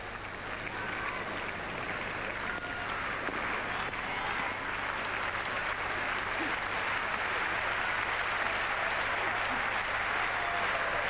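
Steady applause from a tennis crowd in Hamburg at a 2002 quarterfinal between Hewitt and Safin, a dense, continuous wash of clapping that holds at an even level throughout with no clear voices on top.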